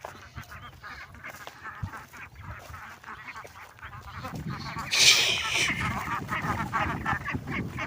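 Ducklings, including two Muscovy ducklings, and ducks call in a noisy cluster near farmland, peeping and quacking steadily, growing louder and busier partway through.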